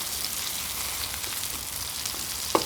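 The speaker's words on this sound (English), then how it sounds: "I can kind of hear that sizzle rocking out pretty fast" Steady crackling sizzle of bacon frying on a Blackstone camp griddle, continuous and fairly close, with a brief sharper pop near the end.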